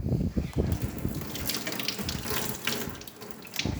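Water poured out of a part of a Gaggia espresso machine during a full tune-up and descale, a steady close splashing gush running the whole time like a running tap into a sink.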